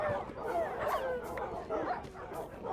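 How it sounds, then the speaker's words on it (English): Dogs in the Minecraft video game whimper and yip while burning, a string of faint, high, repeated cries under muffled game sounds. "All your dogs are burning, Matthew."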